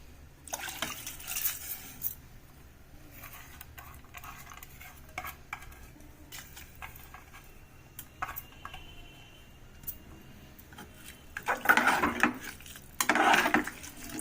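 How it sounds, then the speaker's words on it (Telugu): Water splashes into a metal pot in two short bursts near the end, three cups poured in for khichdi, after quieter clinks and stirring sounds from cookware. "ఒక మూడు కప్పుల నీళ్ళు పోసిందండి"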